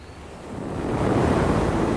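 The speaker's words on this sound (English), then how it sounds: "The storm had been blowing for days." Storm-driven sea waves break continuously along the shore, a loud, dense wash of surf and wind that swells steadily with no pauses.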